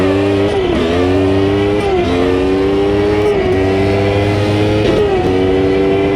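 Two McLaren racing cars braking down into the turn 10 hairpin, a loud, close engine roar that drops in pitch on downshifts and climbs again in repeated rev surges, with no voices.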